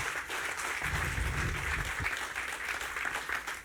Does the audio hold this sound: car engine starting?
no